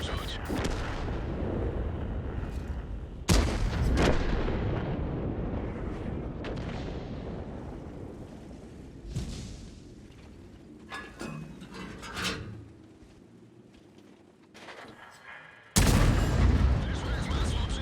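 Heavy tank cannon shots from a tank battle game featuring the Grille 15 and Cobra: deep booming blasts spaced seconds apart, with smaller impacts and rumbling between them, and voices talking intermittently.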